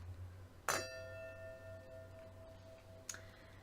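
Two wine glasses clink together in a toast, a bright ringing tap that hangs and fades, followed a few seconds later by a second, softer clink in a quiet room.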